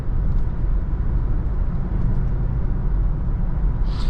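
Inside a 2020 Mazda CX-9 Signature SUV, the transmission downshifts and the engine pulls hard, filling the cabin with a dense, loud, steady rumble of engine and road noise.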